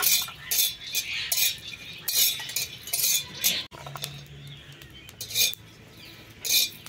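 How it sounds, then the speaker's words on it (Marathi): Peanuts roasting in a pan over a wood-fired stove, a spoon scraping and clinking against the metal in repeated bursts with short pauses between strokes. "आता शेंगदाणे भाजून घेऊया।"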